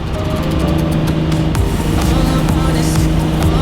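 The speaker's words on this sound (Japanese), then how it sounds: "V12 の音が最高、" Loud, close Ferrari Testarossa V12 engine revving with a high, rising whine and dense roar, sustained for the whole few seconds without speech.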